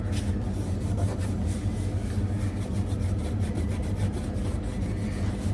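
Adhesive is rubbed and scraped off an iPad, a close, continuous gritty rasping with quick repeated strokes and no talk.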